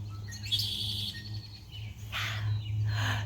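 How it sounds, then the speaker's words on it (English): Birds, including red-winged blackbirds and chickadees, sing outdoors in short, clear chirps and trills at moderate distance over a steady low electrical hum from power lines. "Lots of bird sounds."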